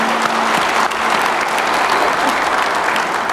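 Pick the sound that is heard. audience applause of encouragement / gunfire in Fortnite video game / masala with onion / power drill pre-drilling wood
audience applause of encouragement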